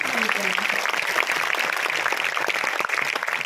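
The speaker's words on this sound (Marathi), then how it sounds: "एकदा जोरदार टाळ्या तुमच्याच" Dense applause from an audience at a college gathering's opening ceremony, a steady wash of many hands clapping that holds for the whole stretch with voices mixed in.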